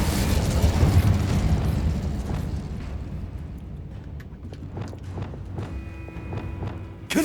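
An Incendio fire spell cast in Hogwarts Legacy on PS5 gives a loud, rumbling whoosh of flame that swells at first and then fades into a softer crackling bed, with scattered clicks and thumps afterward.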